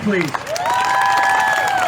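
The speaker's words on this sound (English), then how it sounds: "let's give a big round of applause" Rally crowd at M Global HQ breaking into loud, sustained applause and cheering for a nurse speaker, steady and close throughout, with shouted voices and someone talking over the noise.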